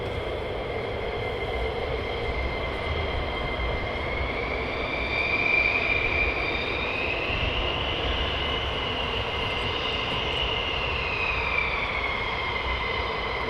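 A fighter jet engine at RAF Lakenheath before takeoff roars in a steady, continuous rumble with a high whine that slowly bends in pitch, holding a constant loudness throughout with no voices.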